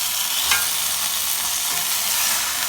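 Beef fries in a pot on low heat for a stove top pot roast, producing a loud, dense, steady sizzle close up with a brief stirring scrape near the start.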